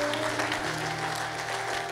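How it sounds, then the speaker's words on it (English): A church congregation claps hands during a deliverance prayer service, forming a brief, dense patter of many hands under a steady hum and faint voices. "Clap your hands."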